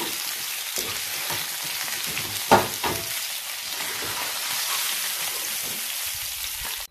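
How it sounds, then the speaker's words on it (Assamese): Panch phoron spices crackling in hot oil in a pan while cooking a fish curry, a continuous close sizzle with a sharp pop or stir clatter in the middle and a few smaller spatters, no speech. "টাৱাৰ তেলখিনিতে কেইটামান মই এয়া পাঁচফোৰণ দি দিলোঁ"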